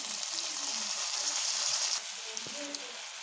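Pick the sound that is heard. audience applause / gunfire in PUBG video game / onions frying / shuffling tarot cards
onions frying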